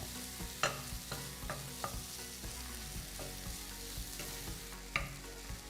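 Paneer being mashed and stirred in a hot pan: a soft continuous sizzle under repeated spoon scrapes and taps, with sharper clinks now and then.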